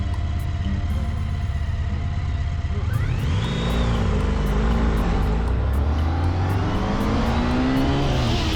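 Cars racing down the runway at Zeljava airbase, engines roaring loudly and continuously up close, with rising and falling revs as they accelerate, one car pulling away into the distance.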